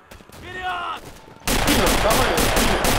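Heavy machine gun fire in the WWII shooter Red Orchestra during a multiplayer battle, bursting in abruptly after a brief voice and then roaring on as a loud, continuous stream of rapid shots.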